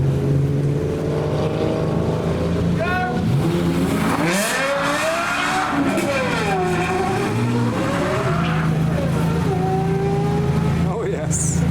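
A Lexus LFA supercar engine at a hypercar meet revs hard in several rising and falling sweeps, loud and close, with a crowd and voices in the background.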